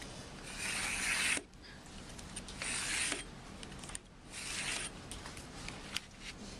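A blade is drawn along a ruler through a stack of book interior pages. Three long, quiet scraping strokes come up close, with short pauses between them.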